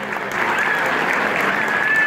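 A crowd applauds steadily for children performing an Azeri dance at a Tehran University celebration, the clapping dense, sustained and fairly loud throughout.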